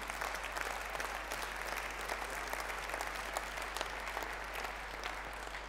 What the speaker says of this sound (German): ein Applaus für unsere Julis.